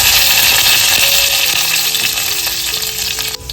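Mustard seeds, garlic and curry leaves sizzle in hot oil in a pot, a loud steady frying hiss with faint crackles and no talking.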